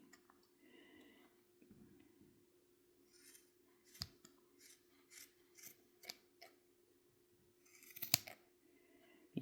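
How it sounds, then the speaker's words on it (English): Scissors snip excess yarn from handmade two-colour tassel earrings, a series of close, crisp cuts and clicks spread over several seconds with a louder cluster of snips near the end, in a quiet room with no talking. "I take my scissors. And we're just going to trim off the excess."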